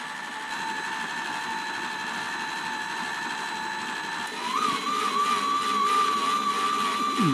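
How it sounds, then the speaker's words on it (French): Hauswirt M5 stand mixer running at speed 3 with the dough hook, kneading pizza dough: a steady, fairly loud motor whine that holds evenly, then rises slightly in pitch and strain partway through as the load builds. "Là, je vais sélectionner le programme crochet. Il me propose vitesse 3 et je démarre."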